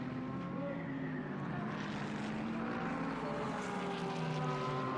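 A race car lapping the Fuji circuit in Japan Cup qualifying gives off a fairly faint engine whine whose pitch rises and falls, heard from a distance with slight background noise.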